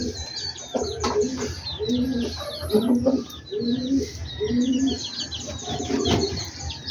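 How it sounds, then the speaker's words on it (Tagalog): Pigeons coo in low, repeated throaty phrases, several in a row, with bird chirps and rustling around them. "Yan lang naman tong kalapati natin na inaalagaan."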